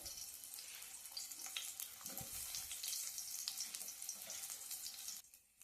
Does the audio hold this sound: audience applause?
no